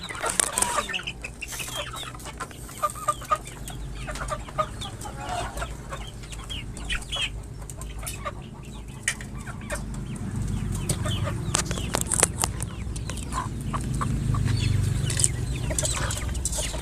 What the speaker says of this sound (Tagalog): Sa loob naman yung mga lalaking mga manok dyan.